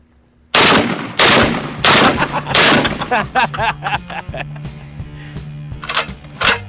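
Loud, close gunshots from an AK-50 heavy rifle, a string of sharp separate blasts with short ringing tails, coming in an uneven rhythm over about six seconds, with a voice talking between some of the shots.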